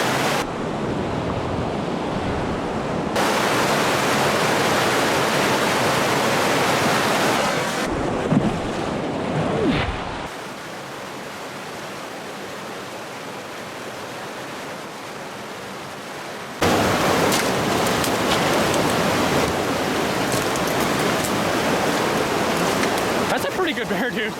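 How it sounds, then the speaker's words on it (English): A big Idaho creek, not running very high, rushes loudly as a hunter wades across. The close, constant roar of water is mixed with wind buffeting and breaks off abruptly in places. "this is a big creek and Colton's going to struggle across it"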